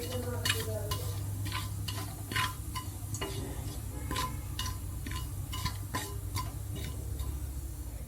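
Mustard seeds and spices crackling in hot oil, with a steady stream of sharp pops and ticks over a low frying hiss, fairly faint and close.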